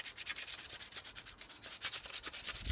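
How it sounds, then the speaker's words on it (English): Sandpaper rubbing rapidly back and forth over a Tom Savini mask, a close, even rhythm of raspy scratching strokes with no voices. "Rub it. Just rub it with the sandpaper."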